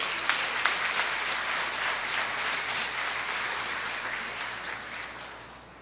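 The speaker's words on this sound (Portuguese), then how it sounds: "Aplauda o nome do Senhor," A church congregation applauding during a Passion service, dense sustained clapping that starts strongly and slowly fades toward the end.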